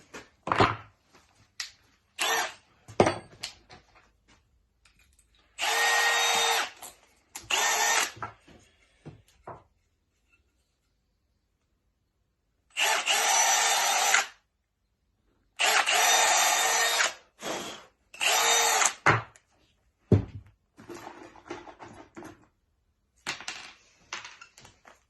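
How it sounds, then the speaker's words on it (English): A power drill whirs in several short bursts of a second or two each, drilling holes in wood, close and loud, separated by clattering knocks and handling sounds. "So I'm going to drill a couple of holes in here."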